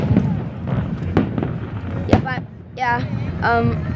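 Sharp Fourth of July firework bangs over Tempe Town Lake, Arizona, pop at irregular intervals, some distant and crackling, with people talking and exclaiming in between.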